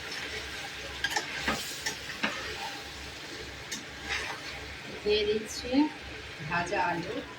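Potato pieces sizzle quietly in a pan while a utensil scrapes and clinks now and then, with a voice speaking softly nearby.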